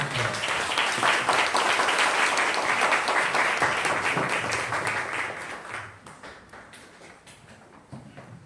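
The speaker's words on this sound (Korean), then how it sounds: "우리 여기 제자교회 성도님도 함께 오시는 분이 박수로 목사님 맞이하겠습니다" A church audience claps to welcome a pastor taking the stage for a lecture, dense sustained applause that stays full for several seconds before tapering to scattered claps.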